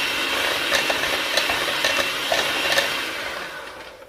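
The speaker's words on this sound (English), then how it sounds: "we're gonna start mixing the butter" Butter being mixed smooth in a bowl for a Japanese cheesecake: a steady whirring drone with faint rhythmic knocks against the bowl, fading slightly toward the end, with no voices.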